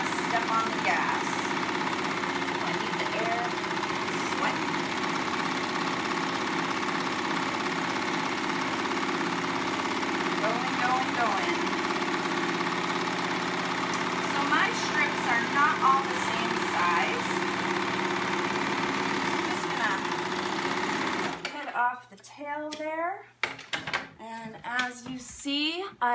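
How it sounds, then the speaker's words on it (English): A serger overlock machine, running a thin 4mm three-thread stitch, joins strips of fabric with a steady, fast motor hum and rattle for about twenty seconds, then stops; someone speaks over the end. "And sergers are great if you wanna step on the gas."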